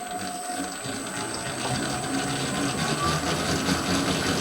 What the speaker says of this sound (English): It's a very quiet mixer.